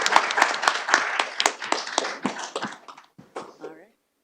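Scattered clapping from a panel event's audience for the panelists, a few hands at first that thin out and fade to quiet by the end, mixed with some voices and background murmur.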